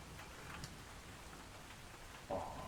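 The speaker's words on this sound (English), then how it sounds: "I need more snow ambience. It's raining in this snowy place." Rain ambience playing as a steady, soft patter of drops with a low, even hiss, and a brief brighter splash near the end.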